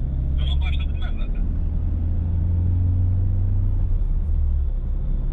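A car engine pulling uphill, a steady low rumble and drone that holds constant with faint whining above, while people talk briefly near the start.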